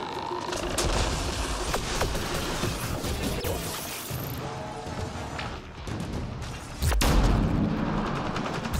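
Rifle shots in the video game Mass Effect Andromeda, fired by a human female infiltrator using a charged sniper rifle. The shots come as sharp bursts, with one strong blast near the end, over a busy layer of game combat noise.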